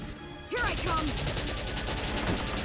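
Gunfire rings out in the PS3 strategy war game Valkyria Chronicles, a sustained burst of loud, rapid shots with sharp whistling ricochet-like sweeps layered over it.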